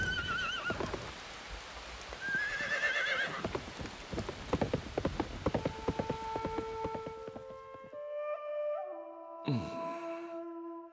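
A frightened horse in an animated cartoon neighs in the rain. Rain patters with scattered drops and hoof-like clatter before the scene drops to near silence, then a sharp, shrill whinny bursts out loudly near the end.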